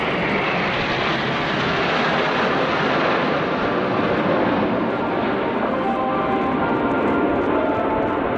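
Red Arrows and Patrouille de France jets fly past together at the RAF Fairford air show, making a loud, continuous roaring rush of jet engines that fills the whole stretch.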